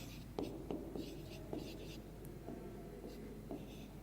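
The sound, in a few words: writing during a math lesson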